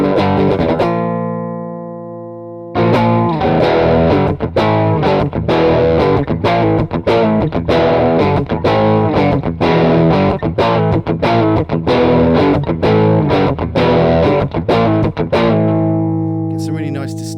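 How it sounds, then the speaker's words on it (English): An electric guitar plays through Jamie's Fuzzdrive pedal with a heavy distorted, overdriven tone, chugging in a rapid rhythmic run after a sustained chord and pause, ending on a ringing chord. No one talks over it. "Get some really nice distortion tones, some really nice overdrive tones"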